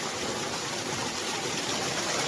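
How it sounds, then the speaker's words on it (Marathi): Continuous rushing roar of a high-pressure waterfall in Sonawade, Kudal, Konkan, broad and steady with no pauses, fairly close. "आवाज येत असेल या ठिकाणी धबधबा आहे"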